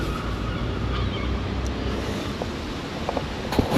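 Strong sea wind buffets the microphone by the shore during a mullet fishing session, a steady, loud rush of gusting air with surf underneath and a few faint knocks near the end.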